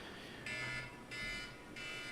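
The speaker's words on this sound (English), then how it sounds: "scared me. My alarm." An electronic alarm goes off indoors: three evenly spaced bursts of a harsh buzzing beep, each about half a second long, moderately loud with brief gaps between them and no speech.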